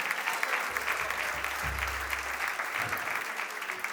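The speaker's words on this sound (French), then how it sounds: "On peut les applaudir, effectivement." Audience applause during a church gathering with a pastor, a full even wash of clapping lasting several seconds over a low rumbling hum, with faint crowd murmur.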